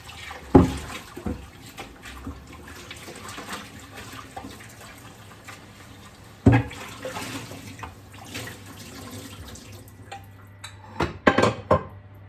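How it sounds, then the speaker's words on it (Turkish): Cooking pots being loaded into a home dishwasher in a kitchen give a few sharp metallic clanks and clatters, with a quieter stretch of faint handling and running-water sounds between them. "Ben burada tencerelerimi makineye atıyorum."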